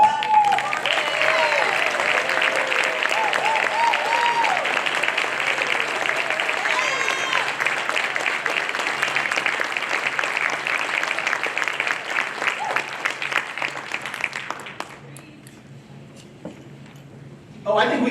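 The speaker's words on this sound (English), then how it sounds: "I'd ask that all MHC graduates please rise so we can give you all one last final round of applause." Sustained applause from graduates and guests at an honors college spring graduation reception, dense steady clapping with a voice running underneath, holding for about fifteen seconds before quickly dying away to near quiet.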